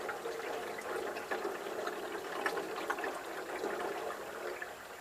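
Oil draining from the engine of a Massey Harris 44 special tractor under teardown, a steady soft trickle and splash of liquid that continues without a break throughout.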